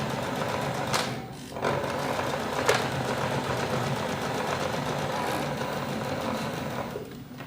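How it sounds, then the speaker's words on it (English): A sewing machine runs in steady mechanical whirring bursts, stitching forward and then backward to lock in a new thread while folding and sewing a bag, with brief pauses and a sharp click between runs. "Put the foot of the needle down and I go forward 3 and backwards 3 to lock in my new thread."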